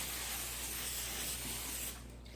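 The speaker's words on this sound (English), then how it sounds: "I'm gonna spray the pan with some canola oil." Canola oil cooking spray hisses steadily from an aerosol can onto a baking pan for casserole, a continuous close spray lasting about two seconds before cutting off.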